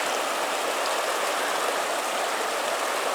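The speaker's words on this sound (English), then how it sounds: "here I am at the half-frozen Rio Medio again" The half-frozen Rio Medio in the Pecos Wilderness rushes steadily past a river crossing, a dense, continuous close roar of flowing water with no voices.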